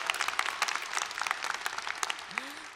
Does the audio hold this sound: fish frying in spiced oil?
no